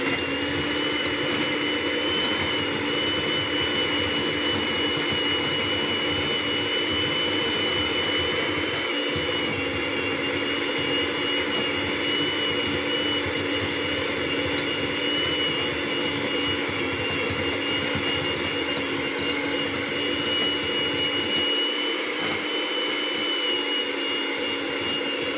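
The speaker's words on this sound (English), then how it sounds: "Use your electric mixer." Electric mixer running continuously while preparing a high-protein, low-carb meal, a steady loud whirring drone held without pause.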